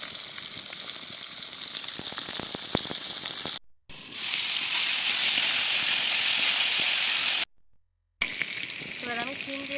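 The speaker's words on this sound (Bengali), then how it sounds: "তেল গরম হয়ে গেছে, আমি এখন ফুলকপি দিয়ে দেবো প্রথমে।" Cauliflower dropped into hot oil fries with a loud, continuous sizzling hiss, broken by two brief silent gaps, and a voice is heard briefly near the end.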